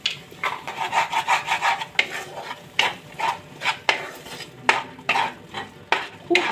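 Peas fry in a pan with salt and turmeric while a spoon scrapes and stirs them in steady rhythmic strokes, each swish clear and close, with no talking.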